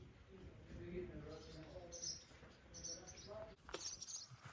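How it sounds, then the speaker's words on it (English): Barn swallows in an Amish barn chirp in short, high twittering bursts, faint and somewhat distant, over a low murmur of background voices and room noise. "Oh, see, no, these are barn swallows."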